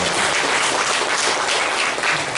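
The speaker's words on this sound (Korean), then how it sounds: "박수 한번 부탁드리겠습니다." A church congregation at a Sunday worship service in Pyeongtaek claps for a young member. The applause is thick, continuous and close, and it holds at a steady loudness throughout.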